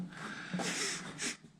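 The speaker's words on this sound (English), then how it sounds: "It's gonna be a lot of sniffling, just be advised." A person sniffles a couple of times in cold winter conditions while overhauling an ice auger, with close, breathy nasal draws and no speech.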